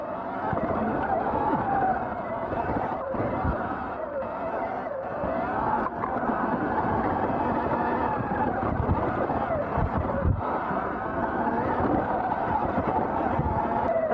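A Surron electric dirt bike runs full throttle up a hill on a mountain trail, a continuous rough whir of motor and rolling tires under heavy wind buffeting on the microphone, with no break for the whole stretch.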